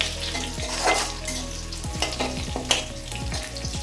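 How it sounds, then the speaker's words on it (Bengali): Onion and garlic fry in a pan, sizzling loudly and continuously while a utensil scrapes and stirs them in a few clear strokes, with a low hum running beneath and no talking. "এবার আমি দিয়ে দেবো পেঁয়াজ আর রসুন"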